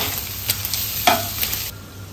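Chili flakes chicken fries in a pan, a steady sizzle broken by several short scraping stirs, close and fairly quiet, with no voices.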